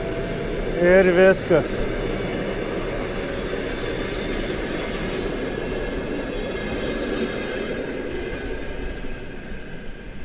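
A passenger train idles at Šiauliai railway station with a steady low rumble and hum, a brief two-tone horn or signal chime early on, and someone speaking over it.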